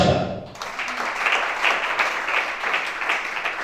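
A congregation applauding in a church service, sustained dense clapping that carries on steadily throughout after a brief quieter start.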